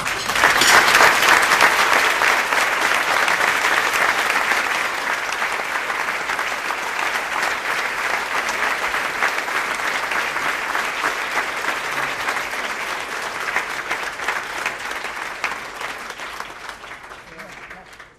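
A warm, sustained round of audience applause at a gathering honoring Limor, a mother and friend: dense, loud clapping from a large crowd that holds steady for well over fifteen seconds before easing off.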